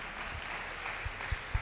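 Congregation applauding during a church celebration service, soft diffuse clapping from a distance with a few low thumps.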